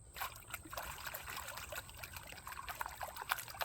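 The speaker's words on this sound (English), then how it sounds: "allowing the water to pull the lights off the top, stratifying it again so that the gold gets to the bottom" Water swirls and trickles in a gold pan as sediment is washed, a soft, close, continuous splashing and dribbling with small sloshing bursts, faint and without any talking.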